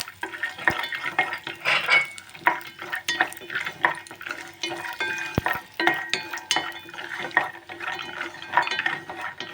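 Peanuts roast in oil in a pan while being stirred, a steady run of close scraping and clinking strokes against the metal with a soft sizzle beneath, and no voices.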